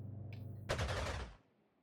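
Aircraft strafing run in Panzer Corps 2: a low rapid machine-gun rattle, then a sharp loud burst of fire lasting about half a second before it cuts off.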